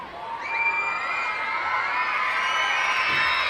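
Around 2,800 kids at a baseball ballpark scream and cheer together, a sustained high-pitched roar of young voices that stays loud throughout.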